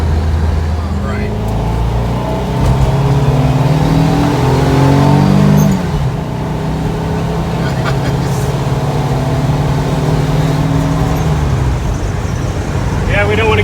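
Turbocharged Volkswagen Bay Window bus cruising along a road at around 50 mph, a loud, continuous engine hum with shifting pitch heard from the cabin, the tone dipping briefly midway and holding steady after.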